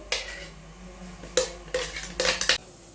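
A metal plate set down into a hot steaming pot while making a rava sponge cake, giving several sharp clanks and scrapes of metal on metal, close and fairly loud, with no talking.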